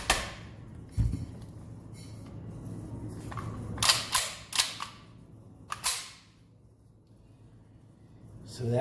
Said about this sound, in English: And then reinstall the brace. Reinstall the pin.